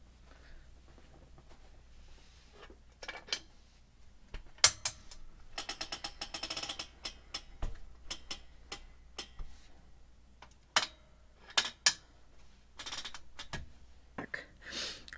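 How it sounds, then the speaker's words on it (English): Advancing a quilt on the rail of a longarm quilting machine gives a series of sharp mechanical clicks and ratcheting ticks in quick bursts, with quiet stretches in between. The sound is close and fairly faint, and no one speaks. "let's go ahead and advance the quilt so I have a little more room to work with"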